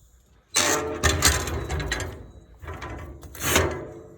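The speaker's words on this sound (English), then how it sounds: "Doors work, these all slide." Metal doors slide along their tracks on a wood-fired BBQ smoker, two scraping runs, each with a rattling start, close and clear.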